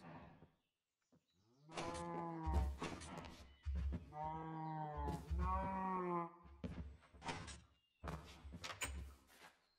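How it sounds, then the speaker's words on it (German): A cow in the video game Minecraft moos several times in a row, loud and close, with long drawn-out harmonic lows separated by short pauses. "Die komische Kuh hüpft hier immer noch rum."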